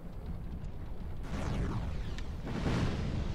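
In Dark Souls 2, witchcraft urns blow up one after another, two heavy rumbling explosions landing over a sustained low, booming wash, loud and close.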